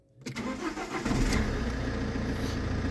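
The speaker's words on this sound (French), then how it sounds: "Dès que dès qu'il passe 50 secondes, à peu près, on redémarre, on redémarre la voiture." An Alfa Romeo MiTo engine is restarted after a pause: a brief starter crank leads straight into a steady, close idle that carries on to the end, with no voices.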